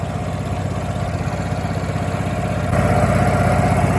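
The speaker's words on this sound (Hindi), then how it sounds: "कंप्रेसर जरा वो चलन लगे हुआ है" An air compressor chugs at a bridge construction site, a steady close mechanical rhythm that grows louder partway through, with no voices.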